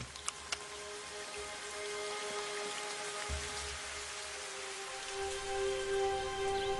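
Rain falls steadily in the Kalahari of South Africa, a soft, continuous patter with a few sharper drops near the start and no voices.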